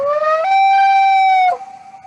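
A common loon's long, mournful wailing call rising and then holding a steady pitch, clear and alone, ending with a brief downward break.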